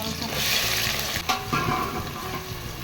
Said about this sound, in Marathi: ते बरें भाजून घेता